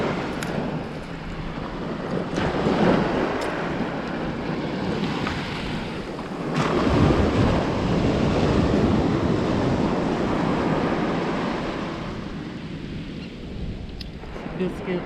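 Surf breaks and washes along Holden Beach, North Carolina, in broad roaring swells that rise and fade, buffeted by heavy wind noise against the microphone.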